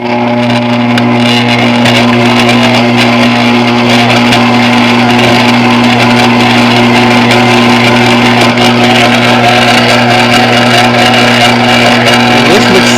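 Stand mixer with a dough hook kneading Kaiser roll dough on low speed, a loud steady motor hum and whir that runs unbroken for about thirteen seconds with no speech.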